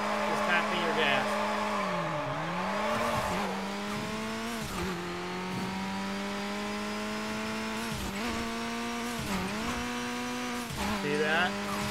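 A car engine in Midnight Club LA revs as the gas is tapped, pitch repeatedly dropping and climbing through quick downshifts, loud and steady with occasional tire squeal.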